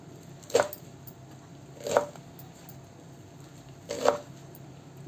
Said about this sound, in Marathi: इथं आपण मेथीची पानं घेतल्या. आता ती आपण कापून घेऊया.